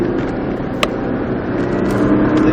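A Nissan Skyline GTR accelerates on the Nogaro circuit, its engine a loud, close, continuous roar that builds slightly in pitch, heard from inside the car.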